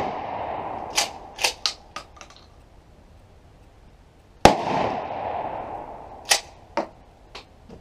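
Mossberg 500 Compact Cruiser pistol-grip shotgun firing outdoors: several sharp blasts, one very loud close shot mid-clip with a trailing echo, plus smaller reports and clicks around it.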